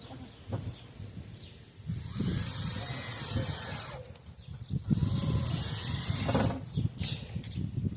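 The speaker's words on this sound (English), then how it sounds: "I'll drill in between the twos" A power drill drilling into wood for a chicken coop whirs in two sustained bursts of a few seconds each, with a high hissing buzz, separated by a short pause and light handling noise.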